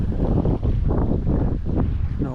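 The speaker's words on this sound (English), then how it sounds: "Probably because it's so windy." Strong wind buffeting a microphone on the shore of Bark Bay, Lake Superior, a loud continuous low rumble with gusty surges and no clear talk.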